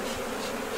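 A close, loud, continuous hum of honeybees swarming around open hive frames at a quarry site in Béard, holding steady throughout with no voices.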